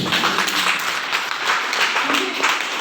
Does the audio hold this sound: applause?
yes